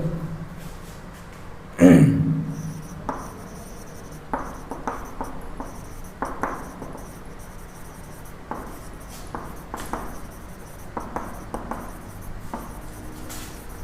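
Marker or chalk strokes on a board during a physics lecture on gravitational potential, a series of short scratchy squeaks and taps spread across the stretch, one louder knock near the start, with no speech over them.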